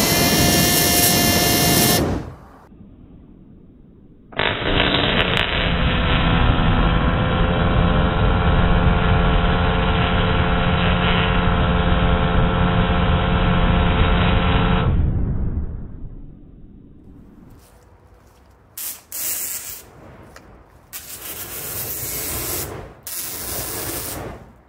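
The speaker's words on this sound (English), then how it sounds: "The cool thing about it is it actually does throw flame." A Super Villain Supply flamethrower shoots a long roaring jet of flame outdoors with a 30-foot reach, a loud sustained rushing whoosh of about ten seconds that cuts off abruptly, with scattered clatter after.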